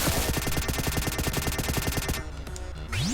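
Rapid, evenly spaced blaster fire rattles loudly while shooting at the piranha in the video game Vectorman, a fast burst of repeated shots that briefly drops off before a rising electronic sweep, no voices.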